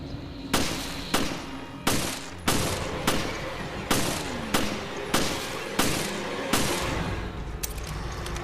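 Gunfire in Resident Evil Revelations rings out as ten or so loud, evenly spaced single shots, each a sharp crack with a short echoing tail, repeating at a measured pace with no talking.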